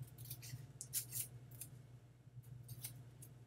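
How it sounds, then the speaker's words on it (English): Small scissors snip through paper to cut out a stamp, a run of crisp, close cutting clicks in short bursts with pauses between, no talking. "Got my little scissors, and you cut this out."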